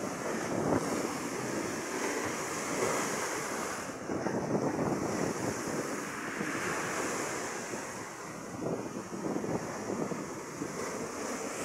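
Angry, rough sea surging at the seawall in New Washington, Aklan: a steady heavy wash of breaking waves and spray with gusts of wind hitting the microphone, loud and close, with no one speaking.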